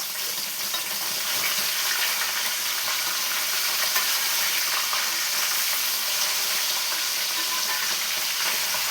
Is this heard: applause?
no